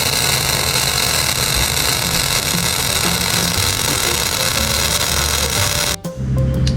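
A Nissan Xterra engine idling with a new Flowmaster muffler welded on, a steady loud drone close by that holds evenly for about six seconds before a brief change near the end.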